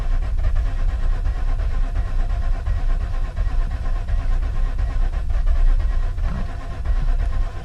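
A Mazda RX8 rotary engine cranks over and tries to start, a steady rumbling low drone running continuously without any clear catch, heard up close for several seconds.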